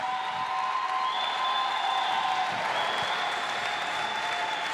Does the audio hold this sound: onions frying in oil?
no